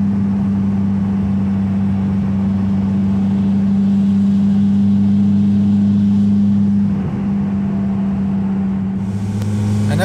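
A 1.9L TDI diesel swapped into a Toyota with a GTC2262 turbo drones steadily at about 3200 RPM in third gear near 50 mph, a loud, constant low engine hum heard from inside the cab with no talk.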